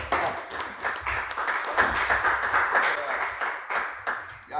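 Dense, steady clapping from a church audience applauding a pastor fills the stretch with crowd chatter mixed in, the rapid claps holding at an even, moderately loud level throughout.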